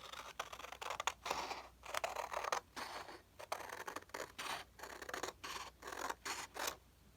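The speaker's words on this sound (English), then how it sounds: "let's cut this down first a little bit. Just cut off the white here." Scissors cut paper for a craft tag in steady, rapid crisp snips, close and fairly quiet, with no voices.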